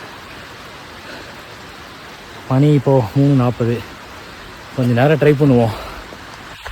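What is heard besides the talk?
rain falling during trek at Bhairavagad fort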